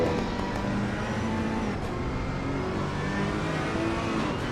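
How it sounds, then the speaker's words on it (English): Onboard engine sound of a GT3 race car at Spa-Francorchamps in Assetto Corsa Competizione, a steady, loud high-revving drone holding throughout without a break. "If we get some on board from Tinhead's car."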